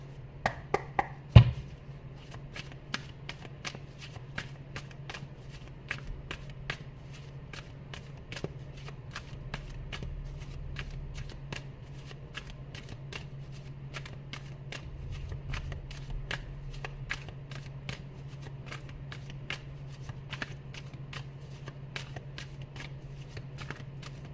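Energy oracle cards shuffled by hand for a reading, a long steady stream of soft rapid card flicks and riffles, faint and continuous after a few sharper taps at the start, with no voices.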